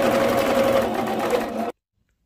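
Electric sewing machine stitching the seam of an elastic skirt, a steady close whirring run that stops abruptly, followed by silence.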